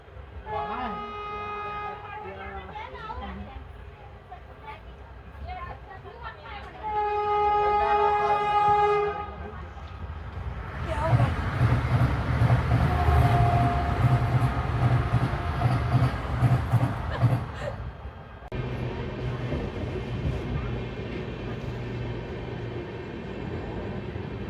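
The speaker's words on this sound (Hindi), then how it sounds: "मालगाड़ी के पीछे से क्रॉसिंग हो रही विशाखापट्टनम दुर्ग वंदे भारत।" A Visakhapatnam–Durg Vande Bharat train passes behind a freight train at Kantabanji railway station, with a loud sustained horn and rumbling, clattering wheels on rails building close by while a station announcement plays.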